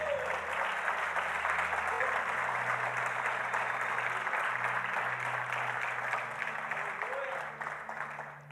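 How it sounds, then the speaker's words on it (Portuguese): A church congregation applauds in a sustained, even wash of clapping that holds steady for several seconds, fairly soft and distant, before tapering off at the end. "Você pode aplaudir a Deus por isso?"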